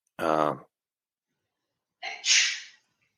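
Two short bursts a moment apart, the second a sharp, breathy sneeze, with silence around them.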